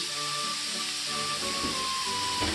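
Chopped onions hit a hot pan and begin to sizzle, a steady broadband fry that holds close and even for a couple of seconds with no voices over it.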